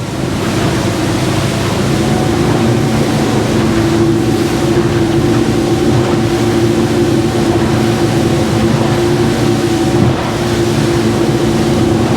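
A Master 770W aluminium boat running at speed across open water at about 3500 RPM, with a loud, continuous outboard drone over rushing water and hull slap, steady throughout and with no voices.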